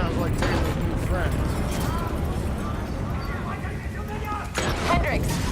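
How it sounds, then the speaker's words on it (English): Dense rumbling audio from Call of Duty Black Ops 3, with bursts of explosions and mechanical clatter, continuous and loud, with voices and effects layered throughout. "we have multiple explosions across the facility"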